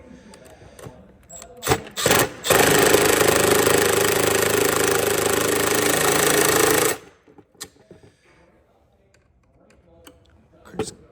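Bolts on a K&N air filter adapter for a 2009 Yamaha Raptor 700R being tightened with a power tool, one loud steady whir of about four seconds between brief clicks and handling noises, with some talk.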